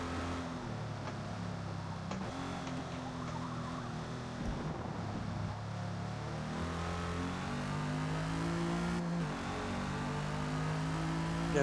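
A race car engine pulls hard through the gears on an opening lap, its droning, shifting tones rising and falling continuously and loudly close by, with no voices over it.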